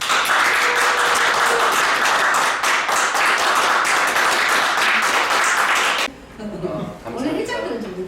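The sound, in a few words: audience applause at a speech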